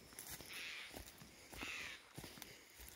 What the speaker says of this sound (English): Might be the hawk chasing ravens.